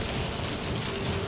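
Rain in the video game Metal Gear Solid 5 The Phantom Pain, a dense, steady hiss of heavy rainfall pouring evenly throughout, no voices.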